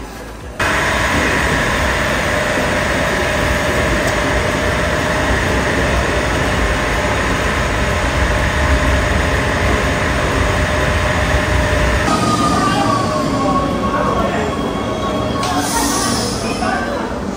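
A Rome underground metro train rides with a loud, constant roar and rattle; voices talk over it, and brakes squeal faintly near the end.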